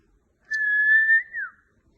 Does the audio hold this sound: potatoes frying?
no